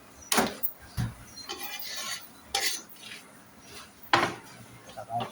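Chili peppers go into a pot of tinolang manok, with several sharp metallic clanks and rubbing scrapes of a utensil against the pot at irregular intervals, close by, with a low background murmur.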